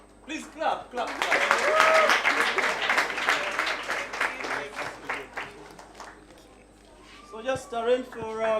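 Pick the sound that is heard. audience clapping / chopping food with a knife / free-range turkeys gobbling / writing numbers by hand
audience clapping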